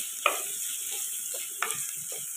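Sliced onion added to a pan for a tomato curry, stirred with a spoon in sizzling oil: two sharp scraping clinks over a steady, soft background sizzle.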